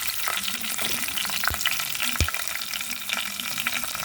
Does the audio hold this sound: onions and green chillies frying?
yes